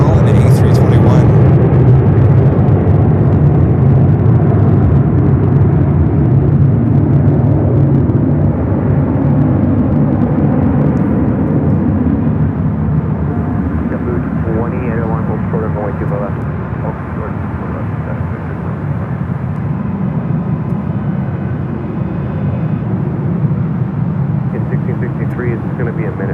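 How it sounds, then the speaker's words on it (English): An Airbus A321neo jet taking off from runway 24 left at LAX, a loud, sustained engine roar and rumble that slowly eases in level over time, with people talking over it. "This one heading to Fort Lauderdale, Florida as well in A321"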